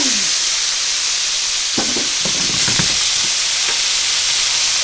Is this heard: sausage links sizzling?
yes